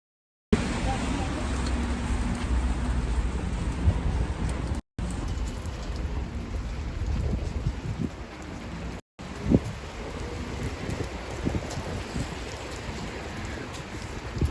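Steady rain outside a loft in St Petersburg, a broad continuous wash with faint passing traffic, cut by two brief dropouts, with no voices.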